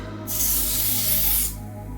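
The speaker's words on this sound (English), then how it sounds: "You're just going to spray where you're going to be putting the wig at." A single sustained spray burst from a bottle onto a synthetic wig, loud and close, hissing for about a second before cutting off.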